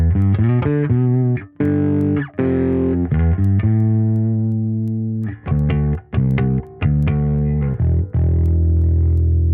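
Bass through a Helix amp-and-cab preset with highs rolled off at 5 kHz, played alone as loud, distorted, growling notes in short phrases with brief gaps, sustained tones ringing between bursts.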